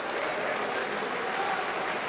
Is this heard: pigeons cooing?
no